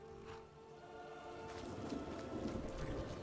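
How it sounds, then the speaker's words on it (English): Rain and thunder in Skyrim, with a low rumbling roll of thunder building under a steady hiss of rainfall, fairly faint and distant. "This rain will stop eventually."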